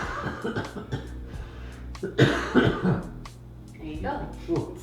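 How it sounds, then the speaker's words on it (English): A woman coughs a few times, close and sharp, during a partner Thai massage session, with talking and a light laugh around the coughs. "I have to cough."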